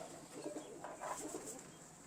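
Heeralal pure-breed pigeons coo softly in a few low, murmuring bursts over a steady background hiss, with no voices present.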